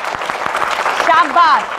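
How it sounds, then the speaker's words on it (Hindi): Children in a classroom give a short burst of clapping, a few sharp claps at first that are quickly overtaken by a teacher's voice speaking close by. "ताली दो"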